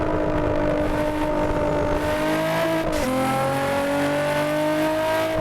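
A car engine in the No Hesi driving game holds loud, steady high revs, dips briefly at a gear shift midway, then climbs again, continuous and alone without talk.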